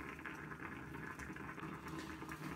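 A 6-cup Corningware stovetop coffee percolator perks steadily, with a dense, continuous bubbling gurgle heard close up and alone.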